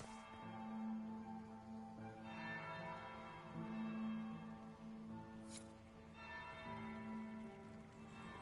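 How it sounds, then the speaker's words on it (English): A large bell tolls in the Dragon Age: Inquisition fantasy game, with three long, resonant strikes spaced a few seconds apart, each ringing out with a rich shimmer before the next. "That's the bell."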